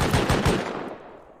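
Python revolver gunfire in the video game Rust, a quick burst of several loud close shots in rapid succession followed by a fading echo tail.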